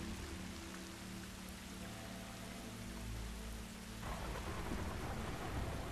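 Steady heavy rain pours in a stormy scene from The Last of Us video game while low thunder rumbles underneath, and the downpour grows louder and denser partway through.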